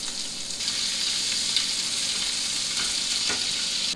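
Shrimp hit a hot pan and fry with a steady, loud, close sizzle and crackle that runs unbroken for the whole stretch.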